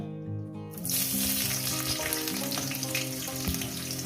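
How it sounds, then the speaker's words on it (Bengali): Onions frying in hot oil for a Bengali chicken curry, a steady, dense sizzle that starts abruptly after a brief quiet moment and continues evenly, close and fairly soft. "পেঁয়াজটাকে মিনিমাম আমি দু মিনিট একটু ভেজে নেব"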